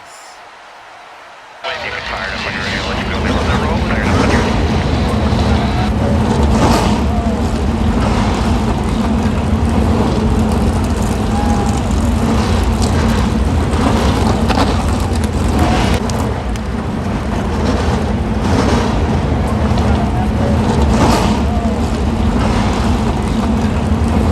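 NASCAR stock car engines at Martinsville Speedway fire up together after a quiet start, building into a loud, sustained roar that runs continuously to the end.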